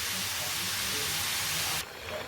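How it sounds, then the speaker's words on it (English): Stock poured into a hot pan to deglaze caramelised bits while cooking beef madras, a loud broad steaming hiss that cuts off sharply near the end, leaving a quieter bubbling simmer. "Using a touch of the stock just to get rid of the caramelisation off the bottom of the pan."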